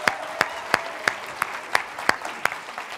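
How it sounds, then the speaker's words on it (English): An audience gives a round of applause at a youth presentation event: a soft, steady clapping bed punctuated by a few sharp, evenly spaced claps standing out above it, moderately distant, with no one speaking. "Can we give them another round of applause?"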